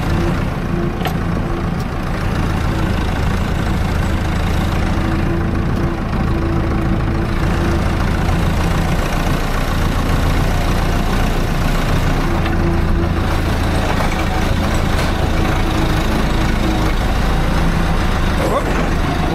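A tractor engine idles steadily and close by for the whole stretch, a continuous low rumble in a snowy outdoor setting after ploughing, with no talk over it.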